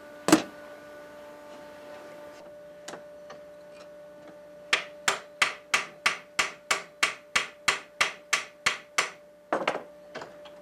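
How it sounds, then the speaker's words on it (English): A wooden mallet taps horizontal wooden bars into the outline of a kendo armor face-guard frame: a single knock, a few scattered taps, then a steady run of about fifteen crisp, evenly spaced close knocks. "Small adjustments can be made by using a mallet to fit the horizontal"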